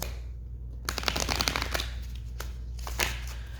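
Tarot cards being shuffled up close, a rapid riffling flutter with a few short bursts and pauses, over a low steady hum.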